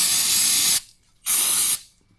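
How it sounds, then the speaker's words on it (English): Lubricant sprayed into the rear brake caliper piston of a 2005–2010 Jeep Commander during a brake job: two close, loud aerosol bursts, the first about three-quarters of a second long, a short pause, then a second half-second burst, with no talk. "Before I do that, sometimes I'll take some lubricant."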